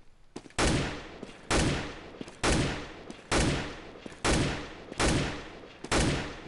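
Gunfire from the video game Counter-Strike: Global Offensive, heard as about seven loud, evenly spaced single shots roughly a second apart, each a sharp crack with a decaying tail, close and alone with no talking.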